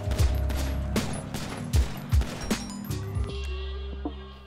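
Gunfire in Grand Theft Auto V during a shootout scene: a dense, loud fusillade of rapid shots with deep booming impacts, continuous throughout.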